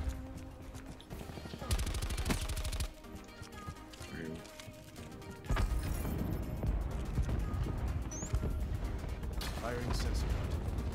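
MX9 submachine gun in Black Ops 4 rattles off in short bursts among other in-game gunfire and game sounds, with a voice talking over parts of it.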